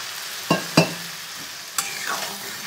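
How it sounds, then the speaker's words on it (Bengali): Malabar spinach seed curry being stirred in a pan: a couple of sharp spoon knocks and scrapes stand out over a low, steady simmering sizzle, followed by a softer stir. "আবার নেড়ে দিলাম"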